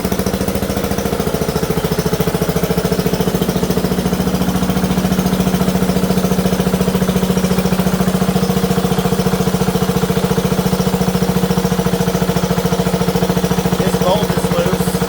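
The engine of a Wizard riding lawn mower runs steadily up close, a loud, even, rattling mid-pitched drone with a rapid pulsing beat that holds without change throughout.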